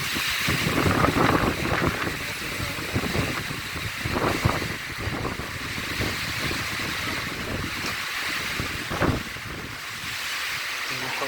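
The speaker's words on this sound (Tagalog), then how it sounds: "Grabe lakas ng hangin" Strong wind roars and buffets the microphone continuously, with a rushing, surf-like broadband noise and occasional louder gusts.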